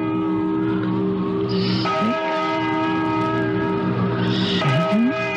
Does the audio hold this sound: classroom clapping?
no